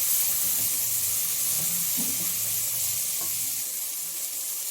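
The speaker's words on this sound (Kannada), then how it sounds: "ಹಾಕೊಂಡು ಚೆನ್ನಾಗಿ ಫ್ರೈ ಮಾಡಿ" Tomatoes, mint and coriander frying in oil for mushroom biryani give off a steady, hissing sizzle close by, with a few faint clinks of a spoon against the pan.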